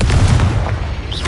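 Confringo spell explosion in the Hogwarts Legacy video game, a single loud, deep boom with a rumbling low-end tail, heard alone without talk.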